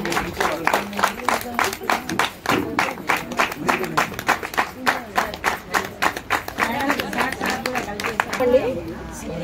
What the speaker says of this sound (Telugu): అందరం మన చప్పట్లతో వాళ్ళని అభినందిద్దాము.